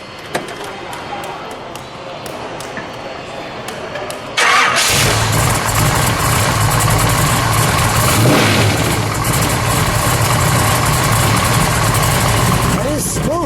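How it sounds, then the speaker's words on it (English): A 1000 HP 1969 Chevrolet Camaro engine cranks and catches, then settles into a loud, steady, rumbling idle close by, after a few seconds of quieter handling noise. "We'll listen to it idle, and then we'll give it a rev"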